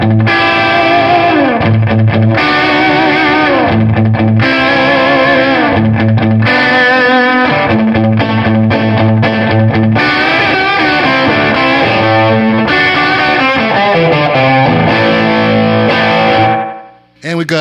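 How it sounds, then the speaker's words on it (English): Distorted electric guitar chords played through an effect with short echo repeats, giving a roomy, bathroom-like ambience before cutting off at the end. "Of course, I got some repeats now, so you get kind of that bathtub reverb sound."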